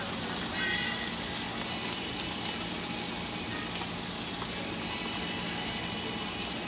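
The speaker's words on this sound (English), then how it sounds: "So that give that a good stir" Jerk chicken sizzles and crackles in a hot pan while being stirred, a steady close frying hiss with faint scraping, no talking.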